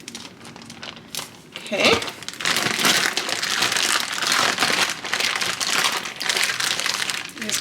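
Food mushed around inside a plastic Ziploc bag makes loud, continuous crinkling and squishing close to the microphone, with a brief spoken word near the start.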